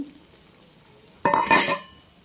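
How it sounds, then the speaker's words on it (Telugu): Cumin, ajwain and kalonji seeds go into hot oil for tempering, a sudden close burst of sizzle with metallic stirring clinks after a quiet start, fading within about a second. "పోపు దినుసులు వచ్చేసి జీలకర్ర, ఓమా, కొద్దిగా కలంజిని మాత్రమే ఇక్కడ నేను వేస్తున్నానండి."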